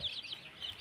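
A country hen with thirteen newly hatched chicks. Faint high chirps and soft clucking are heard briefly and close.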